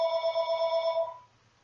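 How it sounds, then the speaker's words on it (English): A telephone rings in a room with an electronic bell-like tone pulsing rapidly, loud and close for about a second before it stops and fades to a quiet background, with no talking. "Shut up, phone!"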